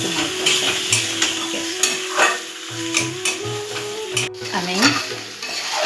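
Sautéing new potato curry (aloor dum) with salt and sugar in a pan, a close, steady sizzle under repeated spatula scrapes and stirring strokes, loud and continuous.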